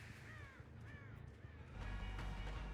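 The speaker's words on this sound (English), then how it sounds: "Ooh, I saw crows settling back here." Crows in a video game give several harsh, clear caws, one after another. A louder low rumble of game ambience joins partway through.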